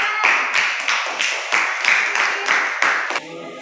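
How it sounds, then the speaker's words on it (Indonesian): Classroom of junior high students clapping together for a presenting group, a steady series of about ten loud, evenly spaced group claps in unison. "Tepuk tangan untuk kelompok 3"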